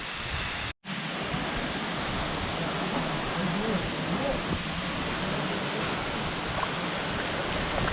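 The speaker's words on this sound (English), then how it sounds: "So you can see the waterfall here" Beside a sandy swimming spot in Sri Lanka, a waterfall roars as a constant, dense broadband rush, close and loud, with no break apart from a brief cut near the start.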